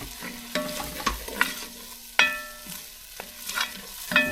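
Chopped white onion, garlic and scallion ends sweating in a pot on the stove: a soft, low sizzle broken by sharp utensil clinks and scrapes against the pot, close up with no voices.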